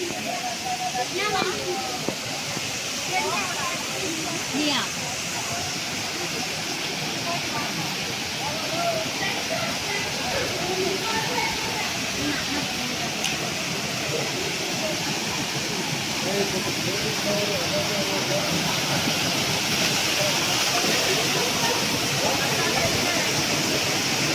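Kallathigiri Falls waterfall beside the Sri Veerabhadreshwara Swamy temple in Chikkamagaluru pours with a steady, dense roar of rushing water that stays even and unbroken throughout.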